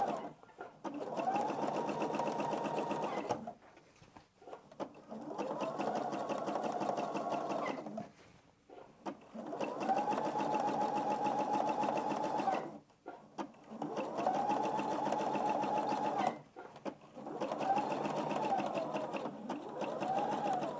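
A sewing machine runs in steady bursts while stitching an Easter egg table runner, each run lasting a few seconds with short pauses between, close and fairly loud with no talking.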